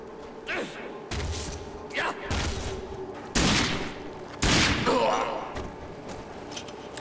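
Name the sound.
gunfire in the video game RAGE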